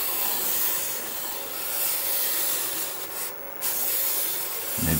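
Wood spinning on a lathe and shedding sawdust, a continuous rough rubbing hiss from a tool against the turning piece, loud and close, with a brief dip partway through and no talk.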